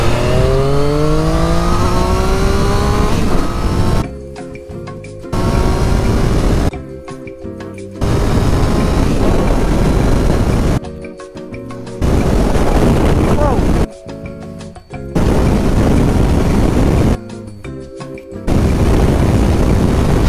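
A Triumph 660 A2 motorcycle engine under riding, loud and close, with rising revs and wind rush, broken by several abrupt drops in sound.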